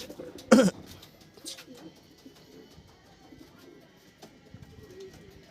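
Soft racing pigeon coos and throaty murmurs at close range, with a brief louder flutter or knock early on, otherwise quiet.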